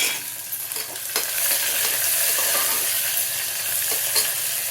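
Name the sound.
chopped onions and curry leaves sizzling in a pan for pulao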